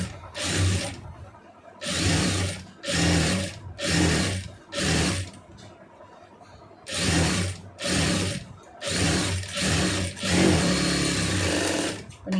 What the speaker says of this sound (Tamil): இப்போ அப்படியே வந்து கரெக்டாக அந்த ஒட்டுலேயே தையல் போட்டுருங்க.